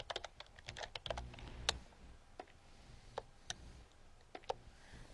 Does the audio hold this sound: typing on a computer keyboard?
yes